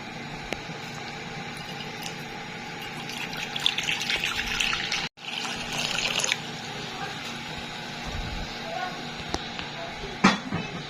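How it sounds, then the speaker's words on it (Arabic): Hot water pours and splashes into a bowl to set up a water bath, a steady running liquid sound with a brief pause midway, close to the microphone. "وهحط فيها الميه السخنه"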